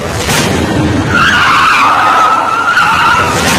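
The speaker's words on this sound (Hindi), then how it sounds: "ब्रेक लगानी पड़ी।" A car brakes hard and its tires skid in a loud, sustained screech that holds a steady squealing tone for several seconds, close and alone with no voices.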